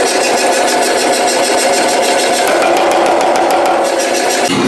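An Anyang power hammer forges steel from railroad spikes, a loud steady mechanical drone with a fast rattling rhythm that runs throughout and shifts slightly near the end.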